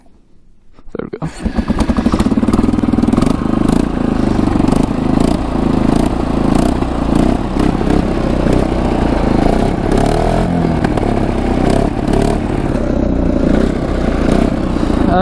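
Kawasaki 4x4 ATV engine starting up and then idling and revving steadily at close range, a loud continuous clattering drone that holds for the rest of the clip.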